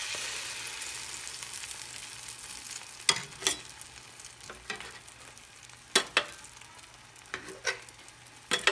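An egg-dipped keto waffle fries in a sprayed pure copper pan, giving a steady soft sizzle with several sharp scraping clicks and taps from a utensil, close by and alone.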